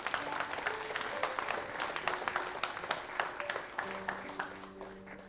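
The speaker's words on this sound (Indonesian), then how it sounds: "Kita berikan tepuk tangan yang paling meriah untuk Indah." Dense audience applause at a televised talent show, many hands clapping steadily with sharp individual claps popping through, while a voice speaks faintly underneath.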